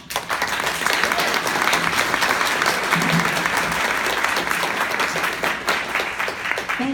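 An audience claps steadily and loudly to welcome speaker Lori Wallach at a panel on the TPP. The dense applause holds at an even level for several seconds, with no voices standing out.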